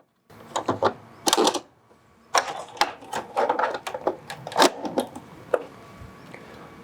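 An HP Color Laser 150 printer calibrating after a toner cartridge change, producing a series of sharp mechanical clicks, clacks and short whirring bursts in an irregular rhythm, close by.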